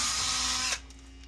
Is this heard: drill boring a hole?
yes